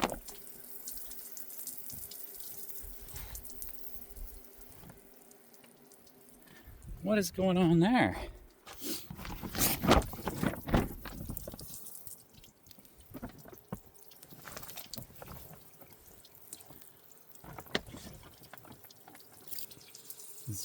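Water runs and splashes from a van's shower in fits and starts, with drips and gurgles under a voice. A louder spurt of flow and a gurgling bubble come in partway through, then it settles back into intermittent trickling.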